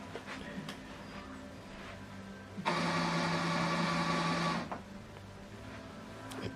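An Epson Expression XP-8700 inkjet printer initializes after new ink cartridges are fitted, running a steady mechanical whir for about two seconds before it stops, close and alone against a faint quiet background.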